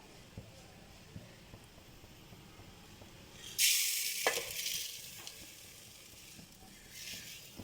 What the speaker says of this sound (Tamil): அடுத்து நம்ம வாஷ் பண்ணி காய வச்சு அரிசி பருப்பு ஃப்ரை பண்ணிக்கலாம்